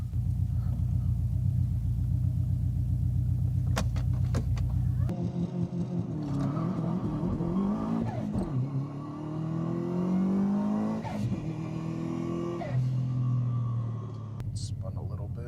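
A cheap used Subaru WRX engine rumbles at a steady idle-like drone, then revs up while driving, its rising and falling engine note loud and close inside the car.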